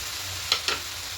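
A spoon scrapes twice through greens and potatoes in a pan, two quick close strokes over a faint steady cooking hiss, with no talk.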